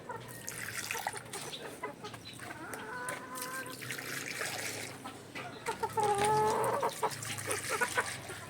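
Gamefowl chickens cluck and call on a game farm, with several birds making overlapping clucks and a few longer calls, at a moderate distance against a busy outdoor background.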